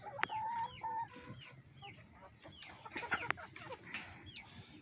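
A flock of about 25 chickens clucks softly at a distance, with overlapping short calls and occasional higher squawks rising out of a quiet background.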